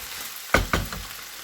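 Onions sizzling in a pan for homemade pizza, with two sharp stirring scrapes over a low, steady fry, heard close with no voices.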